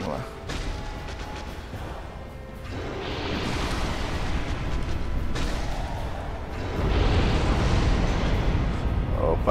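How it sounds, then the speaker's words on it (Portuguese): Rumbling explosion in the Dark Souls video game, a sustained roaring blast that swells and grows louder toward the end, with no talk over it. "Olha lá essa explosão, tchacabum aí."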